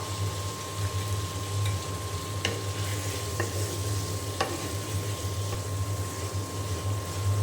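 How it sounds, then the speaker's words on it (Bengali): Pointed gourd stir-fries in oil with spice masala, giving a steady close sizzle with a few sharp taps of a spatula against the pan and no talk. "এখন মশলার সঙ্গে আমি একটু কষিয়ে নেব।"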